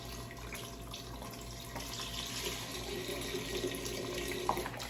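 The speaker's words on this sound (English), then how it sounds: "Take a pot out, put it on the stove, put a little water." Tap water runs into a cooking pot in a home kitchen as broth for tomato bisque gets started, a steady faint splashing stream over a low hum, no talk.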